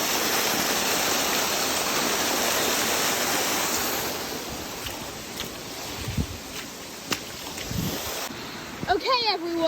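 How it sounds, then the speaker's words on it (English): Waterfall reached along a trail with two streams nearby, a broad steady roar of falling water that fades after a few seconds as handling knocks and a brief voice come through. "we are at the waterfall"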